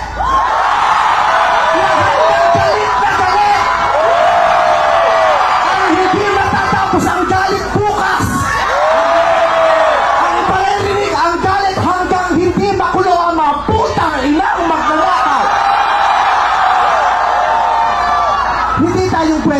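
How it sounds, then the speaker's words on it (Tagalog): A large crowd at a political rally roars and yells in anger, a loud continuous wall of massed voices with rising shouts and whoops throughout. "Sumigaw lahat ng galit!"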